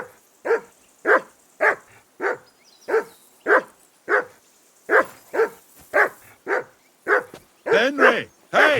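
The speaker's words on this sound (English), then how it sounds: "That barking was a pain in the ass." A dog in Kingdom Come Deliverance 2 barks loudly and steadily, about fifteen evenly spaced woofs close by, with the last few running together into a rougher, overlapping burst.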